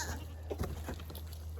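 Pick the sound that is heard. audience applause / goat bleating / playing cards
goat bleating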